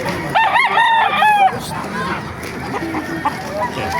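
Roosters crow repeatedly at a busy chicken market in Baliuag, Bulacan, one loud cock-a-doodle-doo standing out early over steady crowd chatter and clucking fowl, with people talking throughout.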